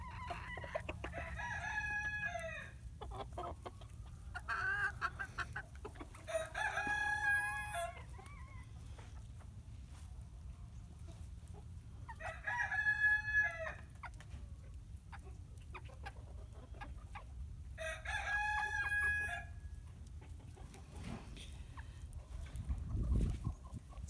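Young Buff Orpington hens outdoors among melting snow give repeated clucking calls in several separate bursts, with a rooster-like crow among them, moderately loud over quiet background.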